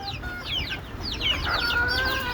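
Native deshi chickens, about ninety days old, cluck and chirp together at afternoon feeding time, a steady overlapping chorus of short calls close by with no talking.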